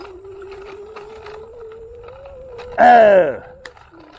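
A small scooter motor drones steadily at a low, slightly rising pitch, briefly covered by a short burst of voice near the end.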